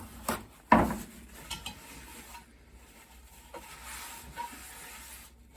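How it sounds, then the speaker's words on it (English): A cooking pan is wiped out after searing a pot roast: a sharp clank near the start, then soft, faint scraping and wiping strokes against the metal in a quiet kitchen, with no talking. "we're gonna wipe the pan off"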